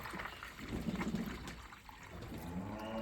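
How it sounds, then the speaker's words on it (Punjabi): Water trickles and splashes quietly into a pigeon bathing container, a soft continuous pouring sound with faint gurgling. "ਭਰ ਦੰਨੇ ਇਹਨੂੰ ਪਾਣੀ ਦਾ ਹੈ ਨਾ"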